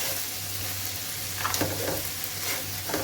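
Chicken fries in oil with turmeric, red chili, coriander and cumin powders, sizzling steadily while a spoon stirs it with occasional scraping bursts, close and continuous with no speech.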